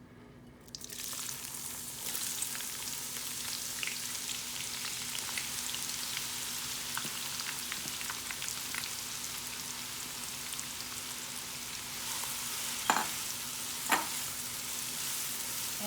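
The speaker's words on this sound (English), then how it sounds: "I'll add this all onion in it." Chopped onion sizzles and fries steadily in a pan of hot oil over medium heat for a kadai chicken dish, a continuous crackling hiss with a couple of sharper clinks of a utensil near the end.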